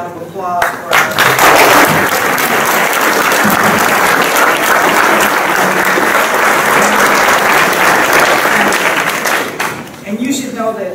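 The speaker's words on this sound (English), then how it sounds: "Let's have another round of applause for our" A hall audience at an ACLU Bill of Rights Day award event gives a loud, sustained round of applause that holds steady for around ten seconds before fading. Brief speech can be heard at the start and at the end.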